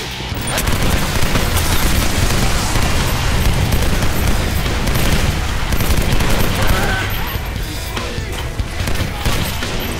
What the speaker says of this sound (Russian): пулемет он просто нахер разогревает